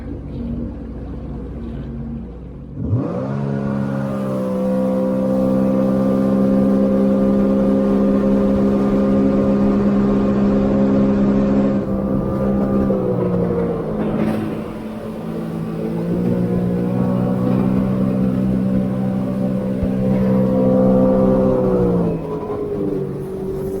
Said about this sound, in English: I'll have a bit of a blat now in sport, see how that goes.